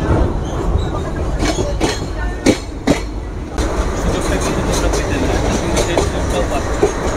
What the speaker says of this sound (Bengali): পাশাপাশি চলছে একদিকে মেট্রো একদিকে কলকাতা দীঘা স্পেশাল ট্রেন